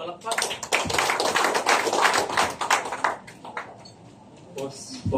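Clapping from an audience at a meeting of national religious group leaders, a dense burst of hand claps lasting a few seconds and then tailing off to a few scattered claps.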